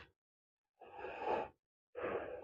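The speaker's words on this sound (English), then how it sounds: "I'll stay here and do some breathing." A person lying prone in a yoga pose takes slow, audible breaths, two long breathy exhales separated by quiet pauses, close and soft with no talking.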